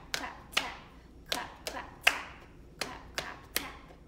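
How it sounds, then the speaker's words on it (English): Hands clap eight times in an uneven rhythm, crisp and close, with quiet pauses between each clap. "Sometimes we clap patterns"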